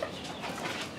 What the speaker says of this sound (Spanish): La gallina está ahorita alerta por lo mismo que no está en su espacio donde siempre está.